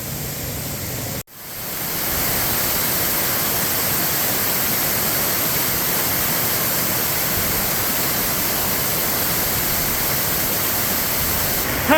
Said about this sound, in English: Paddy Run Fall is an amazing waterfall with multiple stages